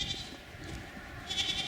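Goats bleating on a farm, two short nasal bleats at the start and end over quiet background noise, no talk.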